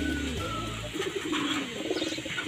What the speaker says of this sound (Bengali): এই কবুতরটা খুবই এগ্রেসিভ